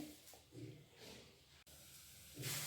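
A pot of drumstick-leaf dal kuzhambu just coming to a boil gives a faint, steady hiss with soft bubbling swells that rise again toward the end, heard close up and without talking.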